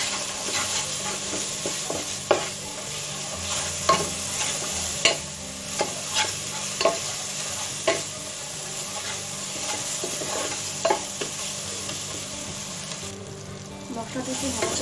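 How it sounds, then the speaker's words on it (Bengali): Spice paste with salt, turmeric and red chilli powder stir-fried in a pan for beef nihari: a continuous sizzle broken by repeated spoon scrapes and knocks against the pan, fairly close. "মশলাটাকে ভালো করে কষিয়ে নিয়েছি।"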